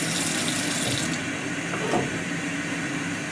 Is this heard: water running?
yes